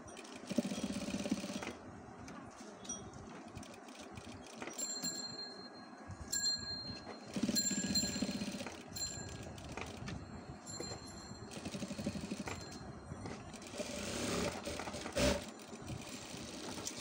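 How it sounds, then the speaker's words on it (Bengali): Domestic sewing machine top-stitching the flap of a Kabuli pocket, running in steady whirring stretches with short pauses, close and moderately loud over a faint room hum. "এবার উপরে চাপ সেলাইটা দিয়ে নিব।"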